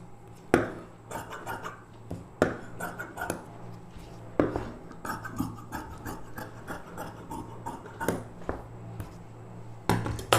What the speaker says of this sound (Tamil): மீதி எல்லாம் அப்படியே கட் பண்ணி எடுத்துக்கலாம்.